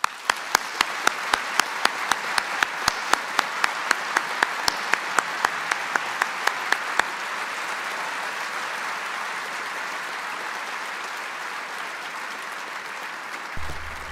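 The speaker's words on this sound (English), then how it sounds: "they're cheering for me" An audience at a public conversation event welcoming Supreme Court Justice Amy Coney Barrett bursts into loud sustained applause, sharp individual claps standing out early before merging into a steady wash of clapping.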